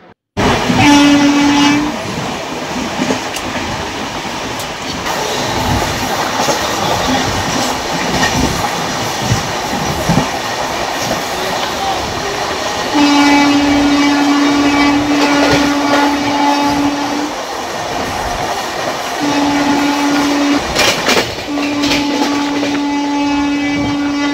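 The Howrah to Digha Kandari Express (22897) rumbles along with steady rail clatter, and its horn sounds in several long, loud blasts over the continuous running noise.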